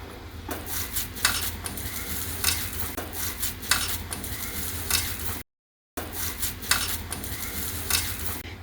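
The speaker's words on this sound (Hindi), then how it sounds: "तो हम प्याज जो हमने बचा रखा था उसको हम सारा ही डाल दे रहे हैं।" Onions added to soybean kebab mince frying in a pan, with a steady sizzle and repeated scraping and clinking of a utensil stirring against the metal, close and fairly quiet, broken by a brief gap of silence.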